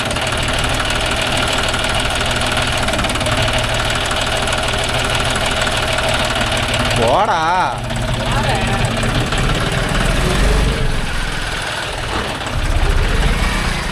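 A John Deere 5105 4WD tractor engine runs steadily with a knocking diesel idle while pulling a nine-tine cultivator through dryland field, loud and continuous beneath voices speaking throughout.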